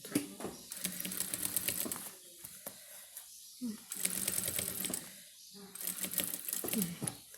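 A sewing machine stitches a bag in three short bursts of rapid mechanical chatter separated by pauses, close and fairly loud, while someone talks between and over the runs.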